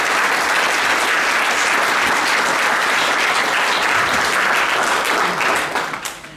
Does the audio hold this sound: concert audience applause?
yes